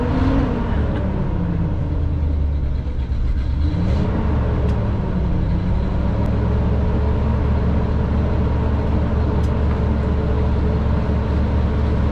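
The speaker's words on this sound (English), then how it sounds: "Exhaust system on it. Has dual exhaust." An old Coachmen Classic RV with dual exhaust runs steadily nearby, its engine giving a loud, continuous low rumble throughout with no talking.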